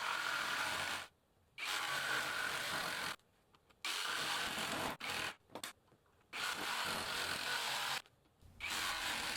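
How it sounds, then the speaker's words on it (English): Jigsaw cutting mountain-peak shapes from poplar board, a loud close buzzing rasp running in long bursts broken by several short pauses, with no voices. "The jigsaw itself is having no problem getting through this poplar whatsoever."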